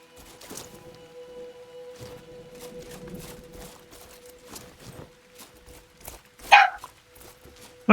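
A puppy in the Wardens of Avalon video game gives a single short, sharp bark, loud against quiet game ambience with a steady hum and a few faint thuds.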